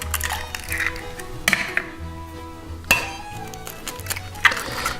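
Eggs for popovers are cracked and dropped into a mixing bowl, with several sharp clinks of shell and utensil against the bowl spaced a second or so apart over a quiet kitchen background.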